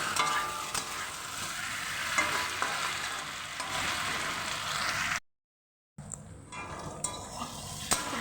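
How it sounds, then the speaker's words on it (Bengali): Duck egg curry with peas sautéing in a pan gives a continuous hiss of frying with faint stirring scrapes. A brief dead silence near the middle interrupts it before the sizzle resumes. "ভালো করে আমি কষিয়ে নিয়েছি"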